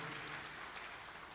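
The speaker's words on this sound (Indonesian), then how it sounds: "Yang setuju boleh berikan tepuk tangan yang meriah buat Tuhan." A church congregation applauding during a sermon, giving a loud round of applause to God; dense, continuous clapping blends into a steady wash of sound with no break.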